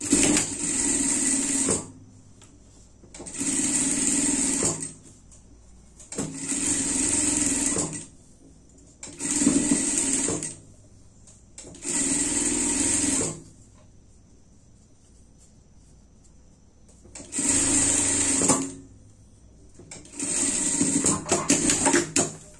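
Sewing machine stitching a seam on a superhero-themed pet harness, running in loud, even bursts of a few seconds each with short quiet pauses between them.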